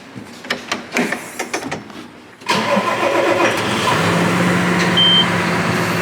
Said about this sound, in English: So I'm gonna get the blower out, I'm gonna move a little bit of snow here